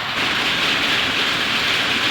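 Rain falls steadily, a dense, even hiss that fills the whole stretch without pause. It is fairly loud and close, with no voices over it.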